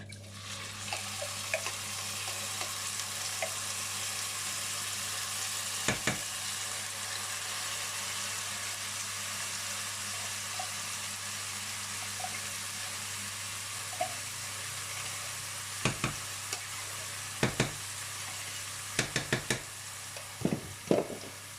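Purée frying in a hot pan, a steady soft sizzle running throughout with occasional sharp scrapes and clicks of stirring toward the end, close and fairly quiet with no talking.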